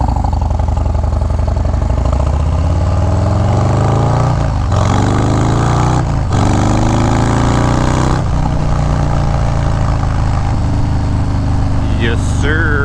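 A 2019 Harley-Davidson Street Bob with a Stage 4 engine revving up close, its deep loud rumble sweeping up and down in pitch through repeated throttle blips.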